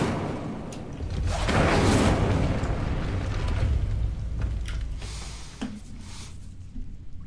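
A fire spell cast in Hogwarts Legacy, a sustained roaring whoosh of flame that swells over the first seconds and then fades into a rumbling crackle, with a few short magical chimes afterward and no talking.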